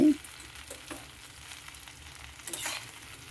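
Okra (bhindi) bhaji cooks in a covered pan, giving a faint, low sizzle with a few soft knocks and a brief louder rustle near the end.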